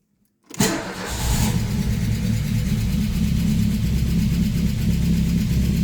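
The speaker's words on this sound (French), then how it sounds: "je vais aller mettre les clés sur le contact. Et puis, on va voir si la voiture démarre." An Audi 80 engine cranks and catches from cold after a short silence, then settles into a steady, slightly labored idle that holds loud and close.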